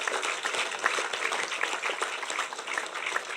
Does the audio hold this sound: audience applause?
yes